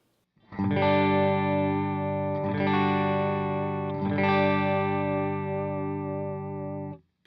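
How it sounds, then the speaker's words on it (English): A clean electric guitar amp tone with no echo pedal engaged: three sustained, ringing chords strummed roughly every two seconds, loud and close, each left to decay before the next, with no talking. "Here is my amp tone."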